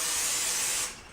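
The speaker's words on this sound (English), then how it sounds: "I'm going to use some non-stick cooking spray" A short burst of non-stick cooking spray hisses from the can onto a pan, a steady airy spray lasting under a second before cutting off.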